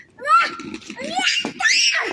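A young child screams and shrieks in high-pitched bursts close by, with rising and falling cries, outdoors in snowy weather.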